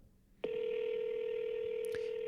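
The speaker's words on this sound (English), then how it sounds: "So let's just give her a call." Telephone call placed on a podcast: after a short quiet moment, a sudden steady electronic tone starts and holds without a break, and a couple of faint clicks sound near the end.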